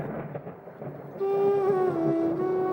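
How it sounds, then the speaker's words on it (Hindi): Rain falls with a deep, rolling rumble of thunder. Partway through, a sustained droning tone rises over the storm and holds to the end, with no voices. "और अब जब बारिश हो रही है"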